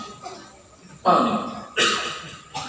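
Three short, harsh coughs spaced about a second apart, close and fairly loud, each a quick burst that fades.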